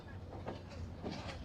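Rupsha Express passenger train rolling along the rails through a big curve out of Khulna, a steady close rumble of wheels and carriage noise filling the whole moment without a break.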